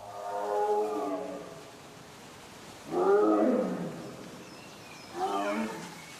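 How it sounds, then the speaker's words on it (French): An adult Siberian tiger roars three times, deep, drawn-out bursts with a pause after each, loud and fairly close, over quiet natural background. "Mais un rugissement cloue l'animal sur place."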